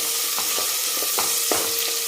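Thickly sliced onion sautéing in a pan for mutton, a steady close sizzle broken by a few soft scraping stirs.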